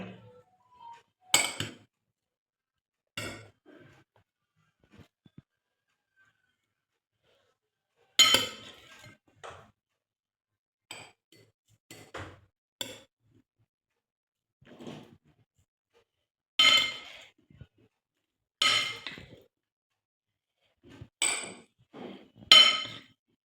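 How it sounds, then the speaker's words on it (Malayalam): Fruit salad being mixed in a bowl, with scattered sharp clinks and knocks of a utensil against the bowl separated by quiet gaps, some single hits and some short clusters. "എല്ലാം ഇട്ട് എല്ലാം ഒന്ന് മിക്സ് ചെയ്ത് വെക്കാം"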